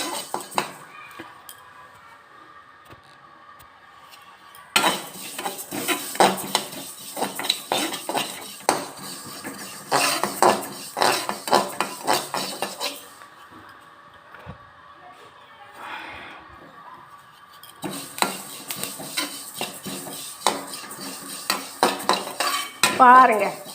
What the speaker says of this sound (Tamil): எதுனாலும் எள்ளு சேர்த்து இதில் வாணலியில் போட்டு இதையும் வறுத்து எடுக்க வேண்டும்.